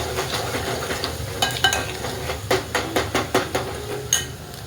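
Chopped onions with a pinch of salt are fried for a whole masoor dal dish, giving a low continuous sizzle under a run of quick rhythmic spatula scrapes and taps against the pan, bunched near the end.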